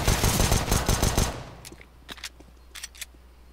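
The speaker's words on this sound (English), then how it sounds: "That AK, bro." AK rifle in Counter-Strike: Global Offensive firing a loud close burst of rapid shots for over a second, then stopping, followed by a few faint scattered clicks and distant cracks.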